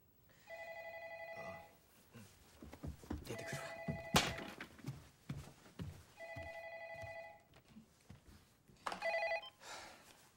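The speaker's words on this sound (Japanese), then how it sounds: "電話。" A telephone rings in four bursts of bright, warbling electronic trills, separated by pauses filled with quiet movement and thumps in an indoor scene.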